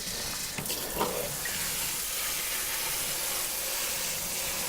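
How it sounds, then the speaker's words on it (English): Running tap water rinses about 4 kilograms of soaked rice for red yeast rice wine, a steady close rush of flowing water with a brief splash near the start and no talk. "rinsed the rice with water."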